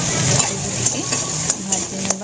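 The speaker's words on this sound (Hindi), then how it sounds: "सोरिष तेल पकईदेली, सोरिष तेल टी गरम" Mushrooms fry in hot mustard oil in a pan, a soft steady sizzle broken by stirring scrapes and light utensil clinks, with a voice talking over it.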